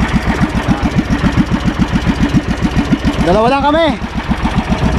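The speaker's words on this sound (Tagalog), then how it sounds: "Ito ang gamit namin, maliit na bangka." Small boat engine on a long sea crossing from Mindoro to Palawan, a loud close rhythmic putter of steady firing pulses, with someone briefly talking over it.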